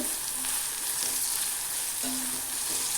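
Onions frying in hot oil for egg gravy make a loud, unbroken, close sizzle that holds steady throughout the short stretch, with no speech.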